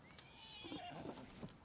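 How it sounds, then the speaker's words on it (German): A horse in the video game Red Dead Redemption 2 gives a short whinny or snort with faint hoof movement, moderately close over steady game ambience. "Pferdchen, komm mal her."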